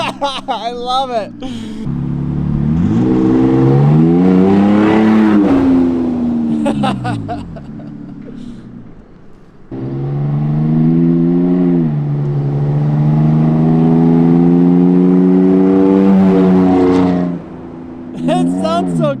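Straight-piped Toyota Tacoma V6 pickup exhaust revving up and down in two long, loud, growling pulls with a short pause between them, close to the microphone.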